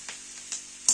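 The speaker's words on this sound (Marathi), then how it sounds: "सगळं साहित्य एकदम चरचरीत भाजून घ्यायचं हे." Vegetables with peas, carrot and jujube dry-roasting in a pan for a rustic mixed vegetable dish, giving a faint crackle with a couple of light stirring scrapes and a brief sharp clink at the end.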